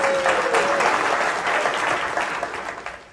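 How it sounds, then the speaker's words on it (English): An audience in a talk or seminar gives a round of applause for a volunteer, a dense burst of clapping that fades slightly over about three seconds. "Give a round of applause."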